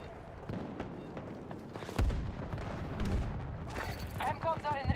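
Video game gunfire from players shooting behind walls: a string of sharp shots and heavier booms, some close and loud, layered under excited talk between players.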